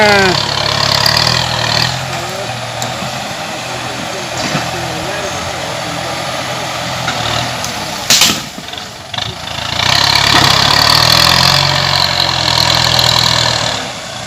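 A Kubota excavator's engine runs steadily at idle, a constant low rumble with mechanical clatter that briefly dips and knocks midway before picking back up, while people talk nearby.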